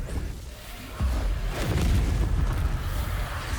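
A Confringo blasting spell detonates in Hogwarts Legacy with a deep, rumbling explosion that swells after a quieter lead-in and keeps roaring in a dense, sustained burst of low boom and crackle.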